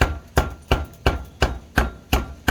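A knife chops fish on a board for Thai laab, with eight evenly spaced, crisp thwacks in a steady mincing rhythm, close and loud with no voices.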